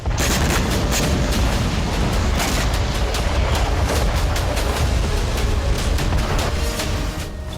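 A dense barrage of booming explosions and cracking blasts from the Russia-Ukraine war rolls on continuously, loud and chaotic with no pauses.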